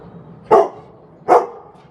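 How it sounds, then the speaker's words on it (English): A dog indoors gives two loud, short barks about three-quarters of a second apart, close by, in otherwise quiet surroundings. "He doesn't usually bark so much."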